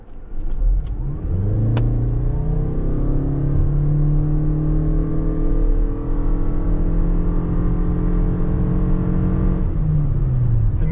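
A 2023 Toyota Crown XLE pulls away from a standstill with a smooth, rising engine note that climbs steadily for several seconds. The engine note then eases off near the end, with no talking.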